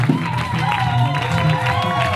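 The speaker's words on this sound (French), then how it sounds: "c'est les acclamations pour le Seigneur" A church congregation at a deliverance service cheers and applauds for the Lord, a continuous loud crowd roar of voices and clapping with raised shouts layered on top.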